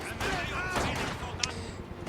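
Sniper gunfire in a video game match between Axis and Allied forces, with sharp rifle cracks punctuating a dense, continuous battle din.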